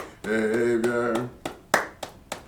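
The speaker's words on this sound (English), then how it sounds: "All that time I was clapping, that's all music." Sharp hand claps in a church interview setting, about five spaced strikes ringing out alone after a stretch of sung or hummed tones, close and fairly loud.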